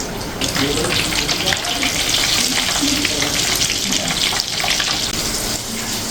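Chana dal being stirred in a hot pan, a loud, continuous sizzle and scraping with a dense, broadband texture throughout, close to the listener.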